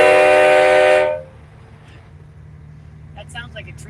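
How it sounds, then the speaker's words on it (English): A loud, harmonically rich air horn from a truck in a protest convoy, tuned to sound like a train horn, blasts for about a second and then cuts off, leaving faint traffic rumble and distant voices. "That sounds like a train horn to me."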